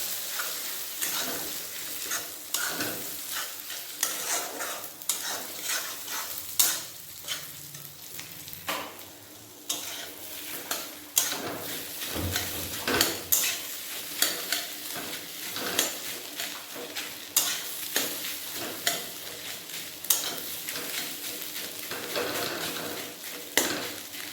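Fish roe fries over a high flame in a pan after tomatoes have melted down, giving a steady sizzle broken by repeated scraping and clinks of a spatula stirring against the metal, close and fairly loud.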